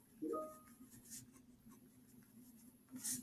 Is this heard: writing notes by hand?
yes